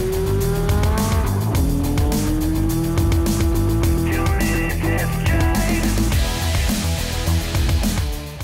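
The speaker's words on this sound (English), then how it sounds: "That's a 2001 Lexus IS 300, and this is gonna be a very slippery, very cold" A 2001 Lexus IS 300 on a snowy, icy track revs hard, its engine note climbing and holding loud and close while tires squeal and skid throughout.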